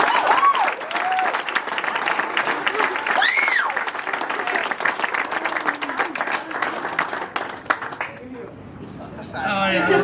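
Applause for a teammate at a team banquet, sustained clapping from a room of people with a few whoops and cheers over it, tailing off and then rising again at the end.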